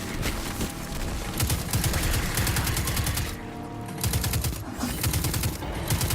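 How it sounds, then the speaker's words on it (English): A Skathalak auto rifle fires in Destiny 2 in rapid sustained bursts, a dense rattle of automatic shots with brief pauses between volleys, loud and close. "That must be my Skathalak auto rifle. That's my primary kinetic weapon."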